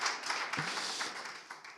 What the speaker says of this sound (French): vous pouvez vous applaudir je pense pour ça